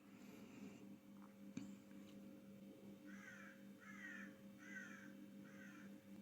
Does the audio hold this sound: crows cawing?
yes